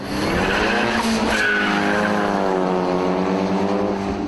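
A 1600 car spins its wheels at a drag race start, giving a loud continuous screech of tyre squeal over a straining, rising engine whine, close and unbroken throughout.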